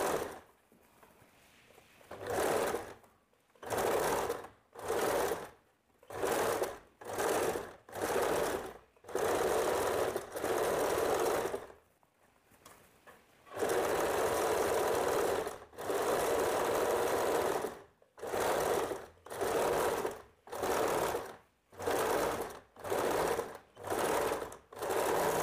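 A sewing machine stitches piping onto a blouse in short bursts, its rapid mechanical whirring starting and stopping with brief pauses and a few longer runs, close and loud, with no voices.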